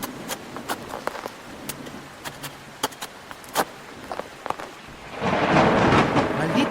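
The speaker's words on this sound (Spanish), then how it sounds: "¡Maldita lluvia!" Thunder cracks and rumbles through a night storm, with scattered sharp impacts early on, then heavy rain swells into a loud, steady roar over the final seconds.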